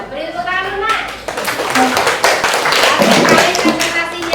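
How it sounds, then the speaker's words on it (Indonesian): Students in a classroom clap for a classmates' group presentation, a dense burst of hand claps that starts after brief speech and continues steadily with voices mixed in. "Nah, beri tepuk tangan dulu, Nak."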